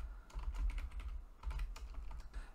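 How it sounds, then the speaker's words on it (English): Keys clack on a computer keyboard while a clip is renamed in DaVinci Resolve 16, a quick irregular run of close, soft taps in two short bursts, with no talking. "we can press F2 on our keyboard and rename that to green screen"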